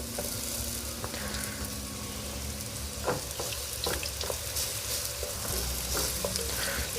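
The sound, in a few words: Beijing beef batch stir-frying and sizzling in pan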